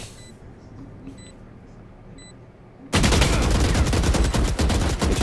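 Valorant gunfire bursts in suddenly after a quiet stretch with a few beeps, then rapid, loud, continuous shots rattle on close and dense until the end.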